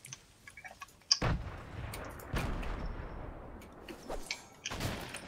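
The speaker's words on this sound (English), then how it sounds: "These are my grenades." Grenades going off in Fortnite: a sudden sharp blast followed by a few more scattered thuds and cracks at moderate distance, with quieter game sounds between.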